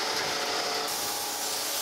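A surface grinder grinds a straight edge with short manual back-and-forth passes across a tapered end, giving a steady, loud, continuous hiss with no talking.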